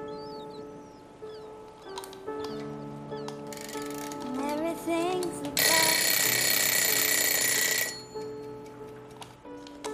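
A kitchen timer goes off once the food is cooked, its tonal ringing rising among layered background music, with a burst of loud, bright ringing lasting a couple of seconds before it fades.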